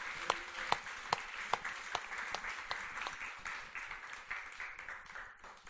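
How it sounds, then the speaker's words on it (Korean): Church congregation at a Sunday Christmas service claps together in a steady rhythmic beat, fairly quiet and somewhat distant, with a softer wash of scattered clapping between the beats. "하나님 앞에 감사 박수 올려드리십시다."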